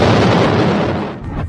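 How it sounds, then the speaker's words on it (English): A powerful explosion from a drone attack on the city of Rylsk in Russia's Kursk region erupts as a loud, sustained boom that rumbles and slowly fades. "The moment of one of the powerful explosions was caught on video."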